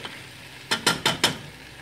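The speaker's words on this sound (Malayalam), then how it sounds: "തക്കാളി നല്ലപോലെ അത് വഴറ്റണം." Tomatoes and onions are stirred in a hot pan for a Kerala-style mutton curry. Four quick, close scraping stirs come in a row against a low background sizzle.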